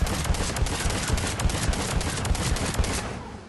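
The Phalanx pistol in Mass Effect 3 fired in a rapid, steady stream of sharp shots at close range, about a dozen in quick succession before stopping, no talk.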